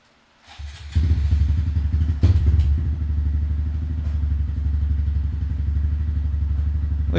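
A Honda Grom motorcycle engine cranks with a few clattering turns, then catches and settles into a steady, close, throbbing idle that runs on loudly to the end.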